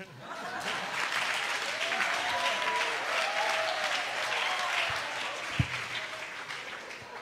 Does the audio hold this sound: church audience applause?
yes